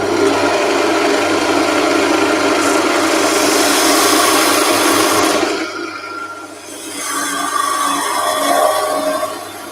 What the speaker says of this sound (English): I'll have a go with the spindle gouge